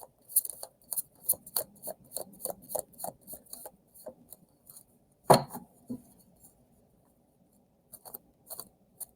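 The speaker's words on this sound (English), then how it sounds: "I'm going to give it a quick shuffle here" A deck of tarot cards is shuffled close by, with a steady run of quick, crisp riffling taps and slaps, one louder snap midway, then a few sparse soft touches toward the end.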